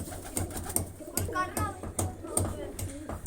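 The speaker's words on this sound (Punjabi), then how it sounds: "ਲੈ ਵੀਰੇ ਇੱਧਰ ਉੱਡਣ ਵਾਲੇ ਕਬੂਤਰ ਵੀ ਨੇ ਤੇ ਵੱਡੇ ਵੀ ਨੇ" Pigeons coo in a loft holding both flying birds and larger ones, soft repeated low calls over a steady low hum with occasional taps, moderately close.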